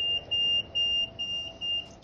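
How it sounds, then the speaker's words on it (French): Reversing alarm on an Electroman Logiskate machine, a loud, shrill electronic beep repeating in an even pulse of short tones, about four per second, over a faint low hum. "un bip de recul va se faire entendre."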